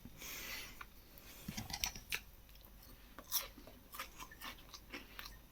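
Close, quiet chewing of smoked haddock and Cumberland sausage: moist clicks and soft crunches at an irregular rhythm, isolated bites popping out over a low, faint background.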